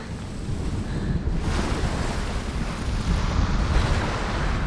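Waves crashing against rocks on a shipwrecked beach in Hellblade: Senua's Sacrifice, a steady, loud wash of surf mixed with gusting wind.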